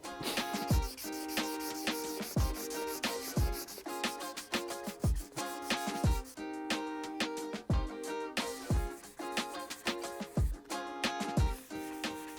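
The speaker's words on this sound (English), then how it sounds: "we're just gonna block sand until the filler's all gone and the sag's gone as well" Steady back-and-forth rasping of a sanding block working body filler off a painted car panel, with rhythmic strokes repeating about once a second and sharp knocks at each turn, loud and close with no talk.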